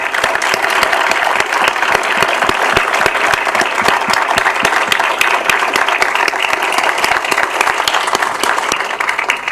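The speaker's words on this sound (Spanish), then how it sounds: "yo voy a pedir un fuerte aplauso para todos los estudiantes y para los" A school audience of students, teachers and directors bursts into loud, sustained applause, dense clapping filling the room steadily for several seconds with no talk over it.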